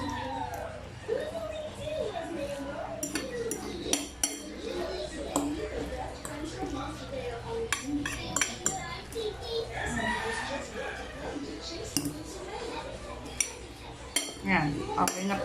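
Utensils clink against a pot or bowl while instant curly spaghetti is stirred into its sauce, with irregular scraping and tapping throughout and a person talking over the kitchen clatter.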